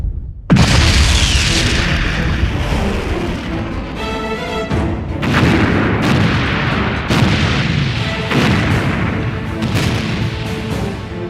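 Long-range artillery fire and explosions thunder loudly and close, a series of heavy booms and bursts following one another over about eleven seconds with a dense rumbling roar between them and no voices.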